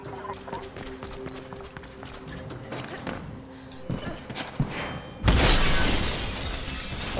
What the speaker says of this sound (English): we're just going through the glass